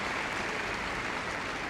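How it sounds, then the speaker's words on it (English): A crowd at Crufts 2015 applauds a rescue dog after its agility run, with steady, dense clapping throughout and no pauses. "so give her a big round of applause"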